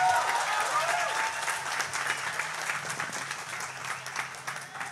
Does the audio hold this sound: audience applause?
yes